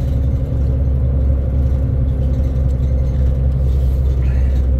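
A loaded Iveco truck carrying 40 tonnes climbs a steep mountain road, its engine a loud, steady low rumble under load that holds constant the whole way with no talk.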